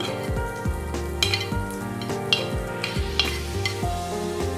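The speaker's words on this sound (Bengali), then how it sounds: "একটু জিরার ফোড়ন দিচ্ছি, শুকনো মরিচ দিয়ে নিলাম। গন্ধটা যখন ছড়াবে একে একে পেঁয়াজ কুচি দিয়ে নিচ্ছি" Chopped onions frying in hot oil with cumin and dried chilli, a steady close sizzle broken by repeated scraping strokes and light clinks of a spatula against the pan.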